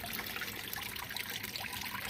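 A small waterfall spout on a homemade storage-bin mini pond trickles water continuously, a faint, steady bubbling dribble with no talking.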